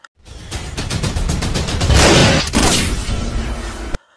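Gunfire in an Indian action film: a rapid burst crackles, then swells into a loud, roaring blast of noise that stops abruptly after a few seconds.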